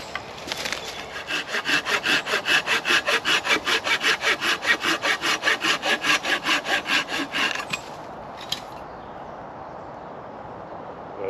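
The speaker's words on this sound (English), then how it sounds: "So we'll saw into it and see what it's like." Hand saw cutting into a dense wooden branch being shaped into a bow drill spindle, a steady run of about two dozen loud, rhythmic rasping strokes close by, then stopping, with no talk.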